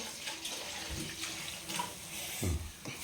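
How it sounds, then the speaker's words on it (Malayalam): Water poured into a pan of hot oil for fish curry, heard close by as a couple of short splashing bursts over a low steady hiss. "വെള്ളം ഒഴിച്ചു കൊടുക്കാവേ കുറച്ച് വെള്ളം ഒഴിച്ചാൽ മതി"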